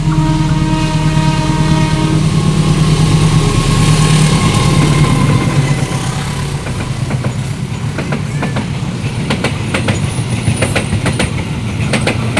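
Madiun Jaya passenger train rolling past on the main line near Cilongok, a loud steady engine drone with horn-like tones fading into rhythmic wheel clatter and rail clicks, no voices.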